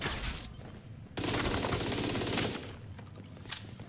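Sustained automatic gunfire in The Division 2 inside the Invaded District Union Arena stronghold, a loud dense burst lasting over a second after quieter game ambience, with scattered shots trailing off.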